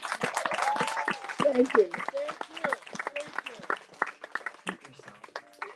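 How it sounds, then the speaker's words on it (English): A gathering gives a round of applause for Reverend Nyela, scattered claps rising and fading beneath a voice speaking throughout. "We have another round of applause."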